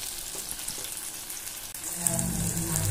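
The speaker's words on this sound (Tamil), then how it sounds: "இப்போ தக்காளி வெங்காயம் ரெண்டையுமே வந்து நல்லா பச்சை வாடை போகிற அளவுக்கு நல்லா சுருள வதக்கிடணும்" Chopped tomatoes and onions frying in hot oil in a pan, a steady close sizzle that grows louder and denser toward the end, with no talking over it.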